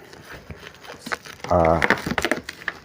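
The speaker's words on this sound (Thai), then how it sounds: "สิ่งเขาเรียกอะไรอะพลาสติกนะครับ กันกระแทกมาอย่างดีนะครับ" Protective plastic packing around a newly delivered electrical consumer unit crinkles in short bursts, close to the microphone, while someone talks over it.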